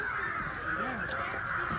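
Several crows cawing in quick succession at Pune's Katraj zoo, harsh and fairly near, over a steady outdoor hiss.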